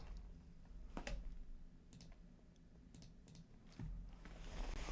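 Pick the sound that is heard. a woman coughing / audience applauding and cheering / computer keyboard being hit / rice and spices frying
computer keyboard being hit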